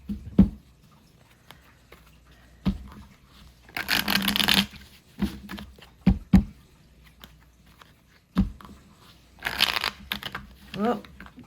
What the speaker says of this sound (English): Ready for its final shuffle there